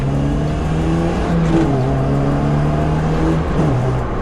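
A K-swapped Honda Civic coupe revving from inside, a loud steady engine drone whose pitch steps up and drops as quick sequential gear changes land, continuous for several seconds with no talking.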